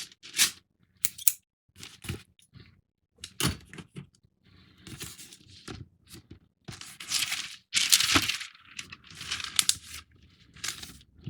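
Protective tape is peeled and torn from the pennant sheet of a 1:200 scale Trumpeter USS Arizona model ship kit, with close, crisp ripping and crinkling bursts, some longer and louder, separated by brief silences.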